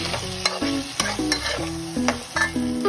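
Beans, potato and ridge gourd cook in a pan with a cumin tempering, stirred briskly. Rhythmic metallic spatula scrapes, some ringing, repeat roughly twice a second over a soft sizzle, close by with no speech.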